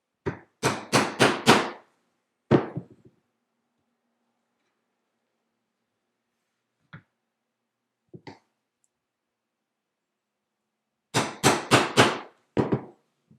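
A regular hand punch is struck with a hammer through leather to make stitching holes for a pen holder, with quick bursts of four or five sharp close blows, single isolated taps in between, and another rapid cluster near the end.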